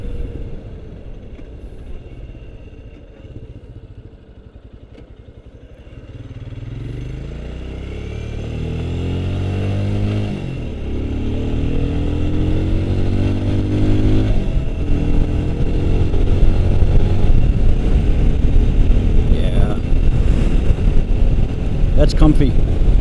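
A Royal Enfield Scram 411 motorcycle engine being ridden, its note rising and falling through gear changes, loud and steady with wind rush, while a rider talks over it.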